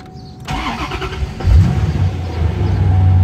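A stick-shift Corvette engine starting up cold: a starter whirs briefly, then the engine catches and settles into a loud, rumbling, slightly revving idle, close by and with no talking.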